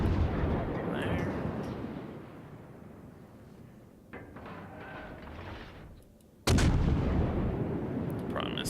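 Cruiser gun salvos in World of Warships: deep booming blasts that decay into rumbling tails, one big sudden report near the end, with someone talking faintly beneath the game's sound.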